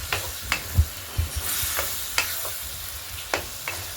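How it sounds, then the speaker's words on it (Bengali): Spice paste sautéed with a splash of water in a pan for a Bengali tengra fish curry sizzles steadily while a spatula scrapes and knocks against the pan in irregular strokes, close and without any talking. "জল দিয়ে ফের মশলাটা ভালো করে কষে নেব"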